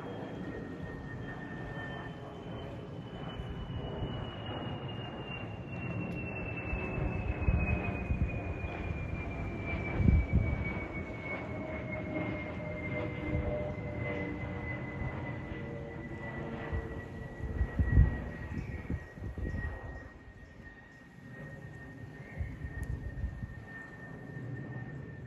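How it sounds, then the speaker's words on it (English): An Embraer E2 jet airliner with Pratt & Whitney engines passes overhead, its engine roar swelling and slowly fading with a high descending whine over about twenty-five seconds. "What an incredible sound that was. From that E2 jet there."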